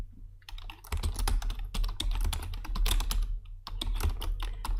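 Rapid typing on a computer keyboard as a folder name is entered, with dense, close key clicks in quick bursts, one brief pause near the start and another toward the end, with no talking.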